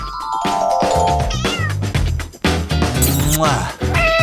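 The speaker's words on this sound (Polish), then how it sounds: "To uroczy kotek." A kitten meows loudly several times in quick succession, its high, rising and falling cries layered over busy background sound.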